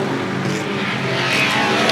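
Vintage Formula 1 cars, a Lotus close behind a number 30 Scarab, roar past at full racing speed, their loud, steady engine note filling the air with no break.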